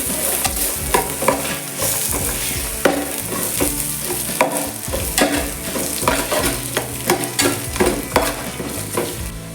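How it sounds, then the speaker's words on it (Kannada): Onions frying and being stirred in a pan for mushroom biryani, a steady close sizzle broken by loud scraping stirs and clanks of a spatula against the pan, with no talking. "ಎರಡು ಈರುಳ್ಳಿ ತಗೊಂಡಿದ್ದೇನೆ. ಫ್ರೈ ಮಾಡಬೇಕು."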